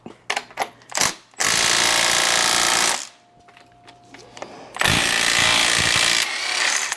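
A power tool works loose and removes the crank bolt on a 1995 Mercedes E320 3.2L inline-six, with a few sharp clicks and then two loud, close, sustained rattling bursts separated by a brief pause.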